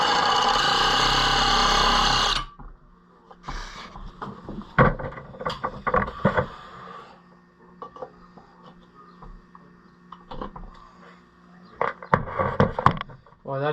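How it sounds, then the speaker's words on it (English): A drill fitted with a cutoff wheel grinds metal on an Oliver 88 closed-grille pedal tractor, a loud high whine for about two seconds, then scattered scraping and clattering handling noises. "I'm going to try it very gently with the drill and a cutoff wheel"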